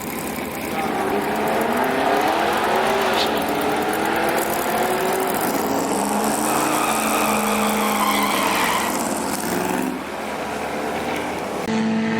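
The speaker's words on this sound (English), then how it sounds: "Nah, man, he doing a burnout?" A car doing a burnout at a race track revs hard with tires squealing and screeching through most of the stretch, loud and continuous, with voices talking underneath.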